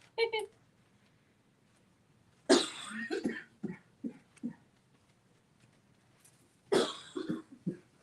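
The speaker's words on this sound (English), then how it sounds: "while I cough" Several sharp coughs in separate bursts with pauses between, fairly close, followed by short throat-clearing sounds.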